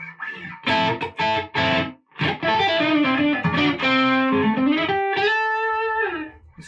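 Electric guitar played through a NUX Horseman overdrive pedal with all knobs flat: loud, crunchy chords and single notes, a choppy strummed opening then sustained ringing notes that fade out.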